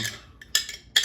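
Metal spoon scraping and clinking against a glass jar in a few quick, close strokes with brief gaps between, no voices.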